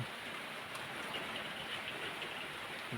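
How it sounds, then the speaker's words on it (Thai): Steady rain hisses and patters continuously, a dense even wash of drops close by with no voices. "ที่บ้านผมฝนตกลิน"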